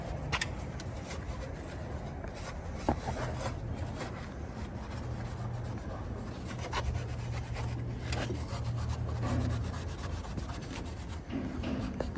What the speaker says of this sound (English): He won't stop sanding.